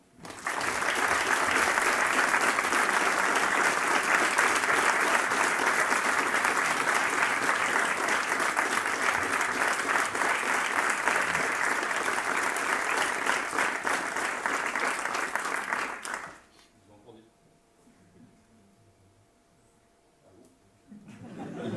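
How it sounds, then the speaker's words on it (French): Loud, sustained applause from a large audience at a French astronomy society award ceremony greets the recipient coming to the stage. It runs about sixteen seconds, then cuts off to near silence with faint room sounds. "n'est autre qu'Alexandre Astier, à qui je demande de bien vouloir me rejoindre sous vos applaudissements."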